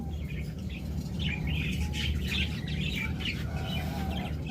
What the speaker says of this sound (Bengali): দেখুন চমৎকার এক জোড়া রানিং ককাটেল রয়েছে